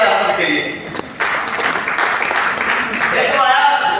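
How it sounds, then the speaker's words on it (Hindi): An audience applauds with steady, dense clapping at a business gathering, loud and close, continuing across the whole stretch. "एक जोरदार ताली आप सबके लिए।"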